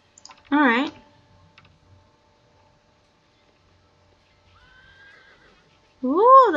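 A horse neighs in a Franz Kafka video game, a short wavering whinny near the start and another at the end, with a faint tone and near silence between them.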